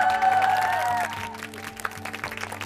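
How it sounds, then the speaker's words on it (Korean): A studio audience applauds on a Korean TV entertainment show. A brief tonal sound opens the moment, then scattered clapping carries on at moderate loudness. "세 분의 모습을 보신 세 분께 뜨거운 박수 부탁드립니다"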